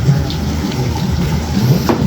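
Water at a beach resort on the Dinagat Islands, Surigao, near a cliff, gives a steady, loud, close wash of broadband rushing noise with no clear breaks, heard alone without talk.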